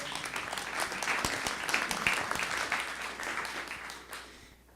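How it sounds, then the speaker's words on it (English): An audience claps together in a sustained round of applause that fades out at the end. "Give him a round of applause."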